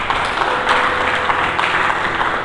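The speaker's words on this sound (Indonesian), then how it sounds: "Mari kita berikan tepuk tangan bagi dia." A congregation claps during a Sunday church service, a dense, loud, continuous wash of many hands that holds steady for a couple of seconds.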